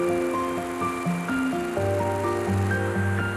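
High-speed multi-needle embroidery machine stitching at up to 1,700 stitches per minute, a steady dense mechanical whir with shifting tonal hums throughout, no talk.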